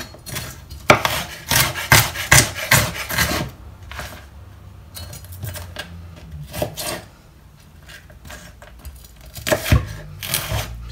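Cabbage being sliced into smaller, finer pieces for vegan sauerkraut, a run of crisp knife cuts and rasping chops in quick bursts, pausing midway before a few more cuts near the end.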